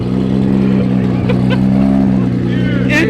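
A 1000-horsepower JZ engine in a pro race car drones loud and steady, with a gathering rev at the end, while voices talk over it.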